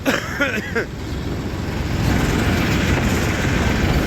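A Mahindra 265 DI tractor pulls up near a sugar mill, its diesel engine rumbling steadily and growing louder as it nears, with someone briefly talking at the start.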